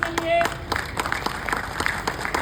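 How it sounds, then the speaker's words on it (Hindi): Brief, scattered clapping from an audience at an event honoring Asha Gaur, sharp individual claps in an uneven rhythm, with a voice talking over it at the start. "जबरदस्त तालियां दोस्तों आशा मैम के लिए"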